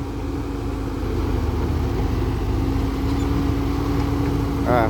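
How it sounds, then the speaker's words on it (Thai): A vehicle engine idles in a steady low drone that never climbs in pitch, as if straining and unable to rev, heard close and continuous for several seconds outdoors. "เร่งเครื่องรอบมันไม่ได้ครับเครื่องมันตกตกหน่อย"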